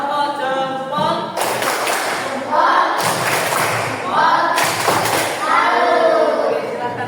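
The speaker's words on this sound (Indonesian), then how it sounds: "Oke, kita kasih tepuk jempol" A group in a classroom training session claps out a rhythmic thumb clap, several bursts of sharp, fairly loud claps in quick patterns with a voice speaking before and between them.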